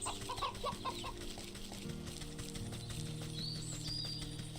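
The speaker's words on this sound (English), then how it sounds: "By those turkeys." Turkeys in the video game Wytchwood gobble and cluck in short bursts over a steady game background hum, fairly faint, with some higher chirping notes later.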